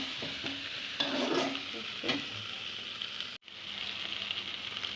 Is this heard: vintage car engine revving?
no